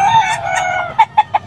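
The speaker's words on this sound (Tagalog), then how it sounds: "pakita natin yung mga manok ni Boss Vic" Gamefowl, SBR and Bullstag chickens at a grotto sale, cluck and call close by: a sustained squawking cry gives way to three short, sharp clucks in quick succession.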